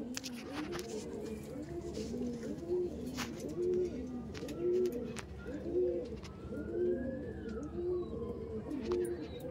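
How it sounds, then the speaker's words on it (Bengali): Red Madras pigeons, including a female, coo in a steady repeating rhythm, low throaty calls close by, with faint background noise and a distant siren-like tone. "দেখেই মনে হবে একটা মেল পায়রা, কিন্তু মেল না, এটা হলো ফিমেল পায়রা"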